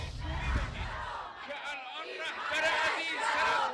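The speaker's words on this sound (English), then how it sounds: "Many of them were chanting "Death to America," were chanting "Death to Israel."" Large protest crowd in central Tehran chanting slogans in unison, a dense roar of many voices rising and falling, loud and continuous throughout.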